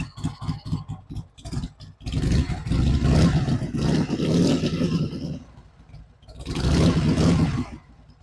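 A Harley-Davidson motorcycle engine swapped into a new frame, with enrichers on, idles with a loping, pulsing beat and then revs up loud and close in two long surges, dropping back to a lumpy idle between them.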